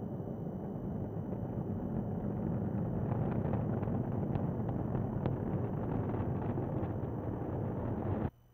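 Distant SpaceX Falcon 9 rocket launch roar, a broad steady rumble that swells slightly and holds for several seconds, then cuts off abruptly near the end, with no voices.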